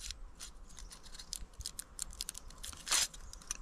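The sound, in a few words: cutting a shape into a folded rectangle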